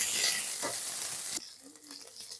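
Green chillies fry lightly in hot oil for chili chicken, a close sizzle and hiss that cuts off abruptly partway, leaving a quieter sizzle with a few faint stirring sounds.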